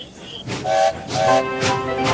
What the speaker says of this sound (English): The guard blew his whistle and waved his green flag.